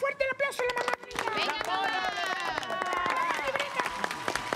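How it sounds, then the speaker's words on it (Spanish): A studio audience at a Spanish-language variety show claps and cheers, a busy ragged applause building under loud excited voices and crowd chatter. "¡Fuerte el aplauso a la mamá!"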